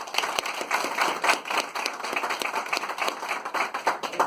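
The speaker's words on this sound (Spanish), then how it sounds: "les pido un aplauso para César." Dense applause from a meetup audience honoring a speaker, many hands clapping steadily at close range for about four seconds with no talk.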